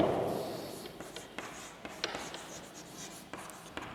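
Chalk or marker scratches across a classroom board in short strokes and taps, quiet and close, during a Class 11 physics lesson on gravitation, with no talk over it.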